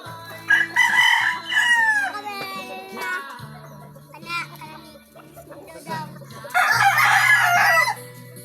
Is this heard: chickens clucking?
yes